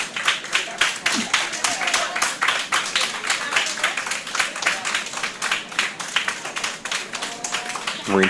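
Audience applauds curling event winners as they enter the warm room of a curling club, steady dense clapping from a nearby crowd running throughout with scattered background voices.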